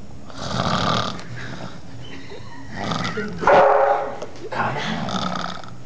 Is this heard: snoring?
yes